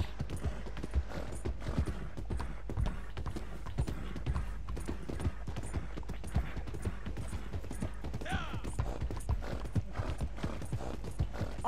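Horse galloping in the Red Dead Online video game, rapid rhythmic hoofbeats repeating steadily at moderate loudness, with a brief snort or whinny partway through.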